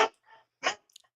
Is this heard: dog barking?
yes